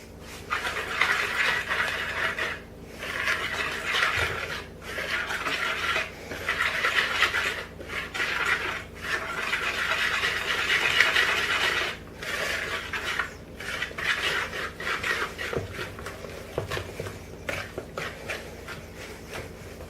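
Apple cake batter with flour just tipped in, mixed by hand in a bowl: a steady rasping, scraping stir that repeats in strokes broken by brief pauses, fairly close and moderate in level, with no voice over it.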